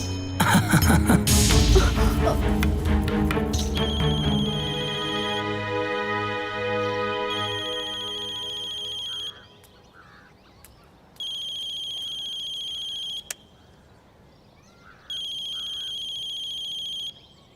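A loud electronic ringtone plays, first as a dense melodic burst, then as repeated short ringing tones separated by gaps.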